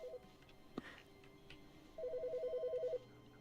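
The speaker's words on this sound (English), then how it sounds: "Oh, hey, there's a phone call." Telephone ringing in The Stanley Parable: an electronic ring in a rapid pulsing burst lasting about a second, over a quiet room tone with a soft click beforehand.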